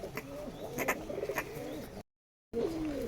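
Pirojpuri pigeons cooing in a close pair, soft repeated low coos with a few sharper notes, steady and near, briefly cut off before the cooing resumes.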